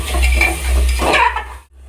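Mutton mince being stir-fried in a pan, a loud close sizzle with spatula scraping for about a second and a half, then cutting off to quiet.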